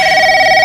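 A telephone rings with a loud, steady electronic tone that holds without a break through the short moment, close and alone with no talking.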